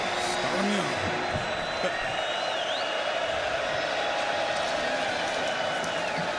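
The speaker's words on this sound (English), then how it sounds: "Hostile crowd, 3rd down and 7." A hostile stadium crowd roars steadily at a college football game between Texas and Rice on third down and seven. The noise is loud and continuous, with whoops rising from it, and it fills the whole stretch.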